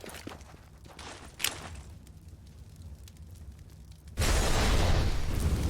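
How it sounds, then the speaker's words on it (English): A Molotov cocktail ignites in Counter-Strike on the Dust2 map, a sudden loud whooshing roar of fire that bursts in and sustains to the end, following quieter game ambience and a brief pop. "Molotov in"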